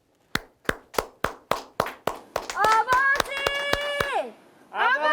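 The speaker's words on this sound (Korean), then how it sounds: "효정기동단을 큰 박수로 맞이해 주시기 바랍니다." Rhythmic clapping from a gathered crowd at a prayer meeting welcomes a performing group, starting as about nine separate sharp unison claps, then giving way to loud sustained voices and chanting.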